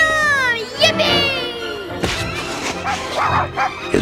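Dog barks and yips from the PlayStation 1 game Heart of Darkness, a few sharp barks near the start with a voice and cheerful speech running over and after them.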